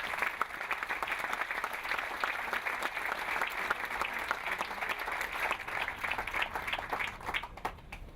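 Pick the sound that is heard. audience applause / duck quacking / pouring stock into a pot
audience applause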